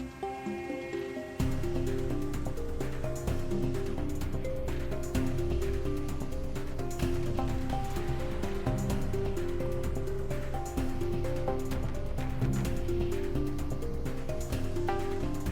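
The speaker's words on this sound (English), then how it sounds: "I think we can start hearing the sound of water getting just a little bit louder" Running water in the Backrooms video game, a steady wash of flowing liquid that carries on without a break beneath a sustained tonal ambient drone, with no voices.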